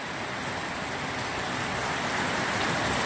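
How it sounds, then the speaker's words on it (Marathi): Heavy rain pours down steadily in the ghats, a dense, even roar of drops with no pauses and no voices. "अतिशय जोरदार पाऊस पडत"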